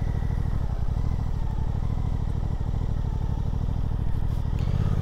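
A 2023 Suzuki GSX-8S A2-spec roadster rolls very slowly at full steering lock, its engine putting out a steady, close, even low-pitched thrum with faint mechanical clatter and no speech.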